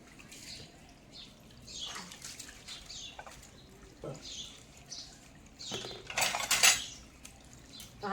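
Dishes and utensils being washed: soft clinks of cutlery and pots with trickling water, fairly quiet throughout and building to a sharper clatter near the end.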